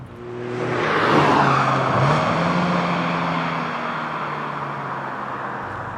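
A Mazda MX-5 roadster on the move, its four-cylinder engine building to a loud, steady rasp that swells, holds with a shift-like dip partway through, then eases slightly, with road and tyre noise underneath and no talking.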